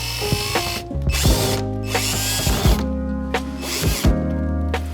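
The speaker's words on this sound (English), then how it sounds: "we're just gonna go ahead and put in this last screw in." A hand ratchet tightens the last screw of a rear spoiler on a Chevrolet Corvette C8, giving several close, loud bursts of rapid clicking separated by brief pauses.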